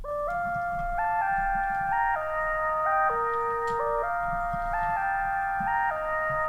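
Zebralette synthesizer plugin on the HS Wheel Undertones preset: sustained, bell-like synth tones in stepped chords that shift every second or so, over a soft rhythmic backing, moderately quiet with no voice.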